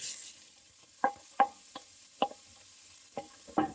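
Onions cut in quarter rings cook in a little oil in a pot, a faint low sizzle broken by half a dozen sharp scrapes and clinks of stirring at uneven intervals.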